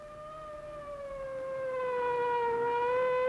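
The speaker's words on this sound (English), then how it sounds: "the driver can hear the warning sound of a siren." A steady wailing siren with a rich harmonic tone slowly glides downward in pitch, growing gradually louder as it approaches.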